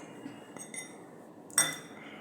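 Fresh green peas tumble into a mixer jar for a pea dosa batter, giving one brief, close clatter and clink against the jar after a quiet lead-in.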